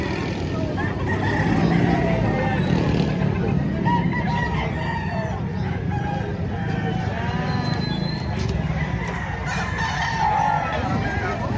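Chickens and roosters at a poultry market in Padre Garcia, Batangas, clucking and crowing amid a steady, dense crowd din, with people talking throughout.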